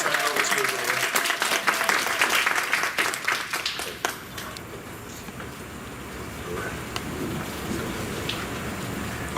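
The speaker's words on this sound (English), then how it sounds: "let's provide him with a round welcome of applause" Audience at a town hall applauding to welcome a speaker, a burst of distinct claps that thins out after about four seconds into quieter room noise with a few scattered claps.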